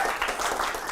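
A brief burst of crowd applause at a luncheon talk, steady clapping from many hands.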